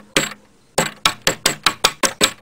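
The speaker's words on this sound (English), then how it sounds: "Use a hammer and chisel." A hammer striking a chisel while carving a wooden propeller: one sharp blow, a pause, then eight loud, close knocks in a steady, quickening rhythm, each with a brief ringing decay, with no talking.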